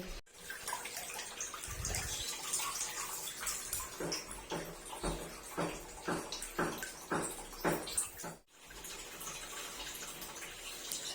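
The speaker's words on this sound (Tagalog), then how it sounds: "So ngayon bababad ko naman siya muna sa tubig na may sabon." Cross-stitch fabric is soaked and swished in soapy water, with close splashing, sloshing and a run of rhythmic water strokes in the middle, with no talk.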